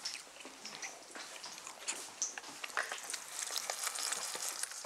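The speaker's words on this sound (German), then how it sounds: "Der Schnitzel fängt an zu brutzeln" A schnitzel fries in a pan with a steady, crackling sizzle and scattered pops, faint but continuous, growing slightly denser toward the end, with no talking.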